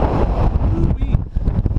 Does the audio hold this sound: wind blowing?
yes